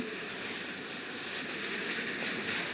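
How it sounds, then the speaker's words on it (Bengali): A train passes close by in a steady, loud roar of rolling wagons and rail noise that holds for the whole stretch, with no one talking. "আপনারা এনজয় করুন আমার এই ট্রেনের সিনটা"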